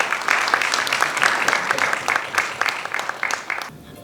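An audience at the trailer and audio launch of the Malayalam film Checkmate claps loudly in a dense, sustained burst that thins slightly and then cuts off abruptly.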